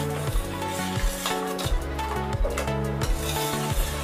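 Payasam stirred in a thick-bottomed pot over a slow flame, with a spoon scraping and clinking against the metal amid a steady bubbling sizzle, close and fairly loud, with no one talking.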